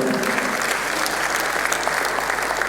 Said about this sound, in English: A round of applause to Mr. Governor.